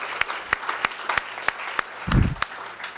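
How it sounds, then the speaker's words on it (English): Scattered audience applause at a workforce development breakfast event, a handful of distinct sharp claps spaced irregularly with a brief louder burst, fairly sparse and close. "let's one more round of applause"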